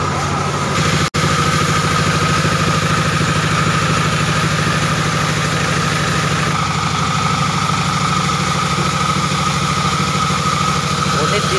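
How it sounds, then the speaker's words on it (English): A 24 hp Dongfeng diesel engine powering a single-man sawmill runs loud and steady at constant speed, a dense continuous drone that barely changes throughout. "Unit diesel Dupeng 24 PK."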